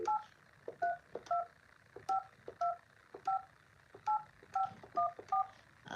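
Telephone keypad tones beep one after another as a number is dialed, about a dozen crisp, clear beeps at an uneven pace, each with a faint click under it.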